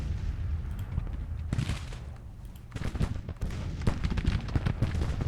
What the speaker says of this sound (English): You just see our shells exploding there in the back.